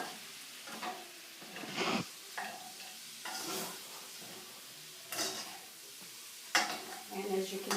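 Potatoes stirred into sizzling chorizo in a pan for breakfast burritos: a soft, continuous fry with intermittent scraping bursts of a utensil pushing food around, a few sharper clinks, fairly quiet and close.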